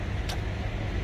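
The engine of a 2005 Lexus LS430 idles after starting, a steady low rumble with a brief hissy burst partway through, close and continuous for about a second.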